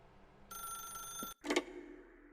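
A desk telephone rings in the video game The Stanley Parable, one sustained electronic ring followed by a brief break and then a louder, shorter burst, heard alone with no talking.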